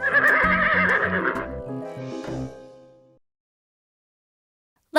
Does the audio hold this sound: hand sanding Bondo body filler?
no